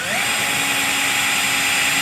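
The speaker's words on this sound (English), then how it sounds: "when you're drilling your pilot hole, you do want to go, make sure you're drilling just through the plastic" Power drill with a 1/8 inch bit boring a pilot hole through plastic during an install on a 2016-2018 Porsche Cayenne, a steady close whine rising in pitch at the start then holding even for two seconds, no talk.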